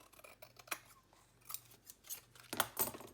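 Scissors trimming the edge of a layered junk journal tag, several crisp snips in quick succession, close and clear in an otherwise quiet room.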